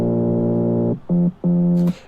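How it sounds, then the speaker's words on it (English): A warm, droning synth plays a long held note followed by two short stabs, dense in the low mids, ending with a faint noisy tick. "And the bass, first bass sounds like this."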